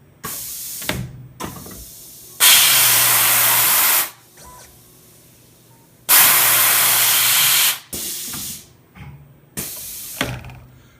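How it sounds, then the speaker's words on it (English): A Tormach auto tool changer blasts air over the spindle in two long hissing bursts, each about two seconds, between shorter clunks and motor whirs of the tool change movements, close and loud. "That blast of air you hear between movements is it blowing air over the spindle so that it would clear any chips that might be in the way."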